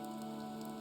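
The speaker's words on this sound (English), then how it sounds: "This rain threatens a coming storm." Steady rain falls in a Fire Emblem Three Houses game scene, a soft, even patter with no other sounds over the short stretch.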